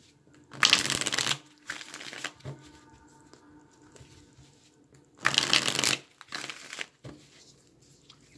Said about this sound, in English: you can watch me shuffle and create these stacks